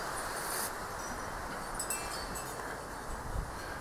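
A steady breezy outdoor wind rushes and buffets against the microphone, a constant moderate roar with faint rustling and no voices.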